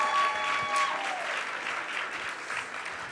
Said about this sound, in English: Round of applause if you agree.